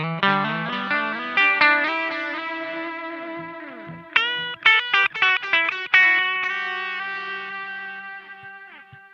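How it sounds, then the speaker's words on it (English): Electric guitar through a Strymon Volante delay pedal with distorted repeats, a run of picked notes and chords trailing into fuzzy, layered echoes that gradually fade. "You can hear that distortion sound in the background."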